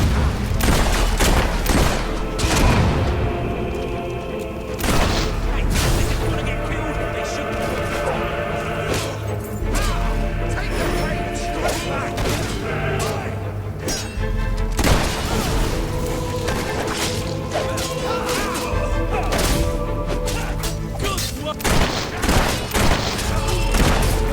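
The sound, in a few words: gunfire in the video game Fable III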